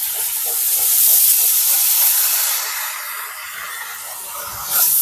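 Washed cabbage dropped into a hot pan with spices and dry coconut powder, bursting into a loud, close, steamy hiss and sizzle that swells, eases, then flares again near the end.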